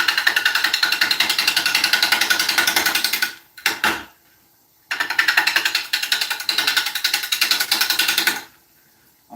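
A bowl gouge cuts British ash spinning on a wood lathe, a loud rapid chattering rasp that runs in a long stretch, breaks off briefly with a couple of knocks and a pause, then resumes before stopping again.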